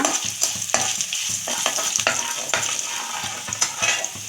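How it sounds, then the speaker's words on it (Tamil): Garlic frying lightly in a pan for a yam (elephant foot yam) fry, a steady close sizzle with repeated scraping stirs of a spoon throughout. "போட்டு இது லைட்டாக நம்ம வறுத்துக்குவோம்ப்பா"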